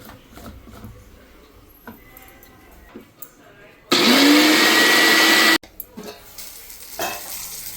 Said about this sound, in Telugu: ఇది కూడా మిక్సీ పట్టేసేస్తుంది